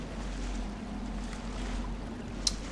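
Steady watery sloshing and churning as a character wades through water in The Evil Within, a continuous low wash with a brief sharper splash near the end, no talk.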